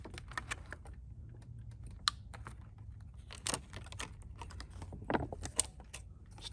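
Rubber grommets are pulled off the plastic parts of a Roomba 692 robot vacuum during a teardown, making irregular small clicks and snaps close up, with no talking.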